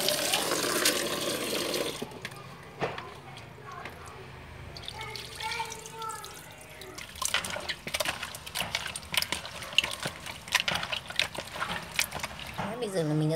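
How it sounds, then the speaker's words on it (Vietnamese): Running water splashes while pork large intestine is washed under a tap, a soft continuous gush with scattered drips and handling sounds and a voice talking over it. "Mình đang rửa cái lòng già này."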